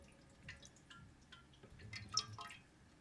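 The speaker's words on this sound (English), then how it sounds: "I can actually get that leaking sound to stop" Faulty toilet flapper with a worn gasket letting water seep into the bowl, a faint, quiet trickle with soft irregular drips at close range.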